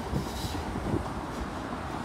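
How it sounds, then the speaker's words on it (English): Trains passing at speed on a railway near the Seaforth docks on a morning, a steady broadband rumble and rush that holds evenly throughout, fairly close and without any speech. "There are loads of trains just passing at speed this morning."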